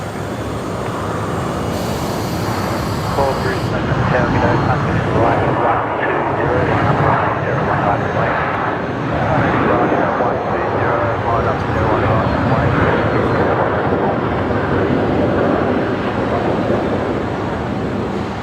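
An aircraft arriving at Brisbane Airport, heard as a steady, broad roar that swells and holds throughout, with people talking over it.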